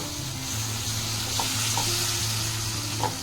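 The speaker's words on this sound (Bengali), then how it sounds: "অল্প পরিমাণে জল দিয়ে এটাকে নেড়ে নেব।" Butter paneer gravy stirred in a pan with a little water added, giving a steady soft sizzle with a few light spoon scrapes, close and even throughout.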